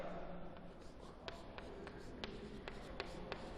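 Chalk or marker tapping and scratching on a classroom board during a physics lecture, a series of faint short ticks in a steady rhythm over a low room hum.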